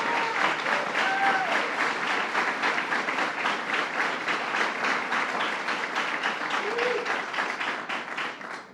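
An audience applauds continuously at a governor's bill-signing event, dense clapping filling the space for several seconds before starting to taper at the end.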